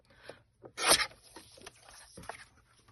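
Paper being trimmed for a handmade card, giving a few short rasping, scraping strokes, one louder burst near the middle and softer rubbing afterward, close and fairly quiet with no talk.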